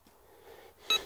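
A Nel Tornado metal detector gives a single brief electronic beep near the end of the clip during a depth test, following a faint quiet hiss.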